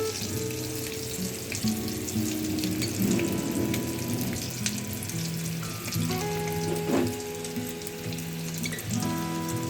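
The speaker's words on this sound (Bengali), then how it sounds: "এবার একটা চামচ দিয়ে আলুটার উপরে তেলটা দিলে হবে, তাহলে উপর থেকে আলুটা হয়ে যাবে" A flower-shaped potato snack sizzles steadily in hot oil as oil is spooned over it, with close bubbling crackle and occasional light scrapes and clinks.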